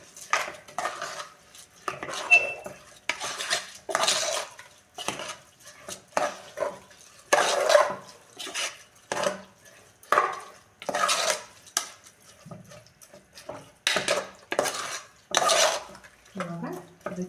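Rice is stirred into masala in a pot for vegetable pulao, a series of close scraping and clinking spoon strokes in an irregular rhythm, each a short burst separated by brief pauses.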